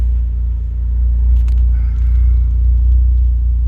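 A Mitsubishi DSM car engine idling while stationary, a steady deep close rumble held throughout with a few faint clicks and light rattles on top and no talk.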